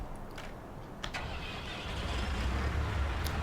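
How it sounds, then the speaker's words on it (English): A 6616 tractor engine in Farming Simulator 19 starts up and settles into a steady low rumbling idle, growing slightly louder over a few seconds with no talking. "Let me jump into, I guess the 6616 is the best tractor for this particular job."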